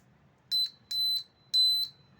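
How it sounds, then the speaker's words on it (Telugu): A homemade battery-powered buzzer gives three short, shrill electronic beeps, evenly spaced and fairly quiet, against a faint low hum. "I explain this buzzer."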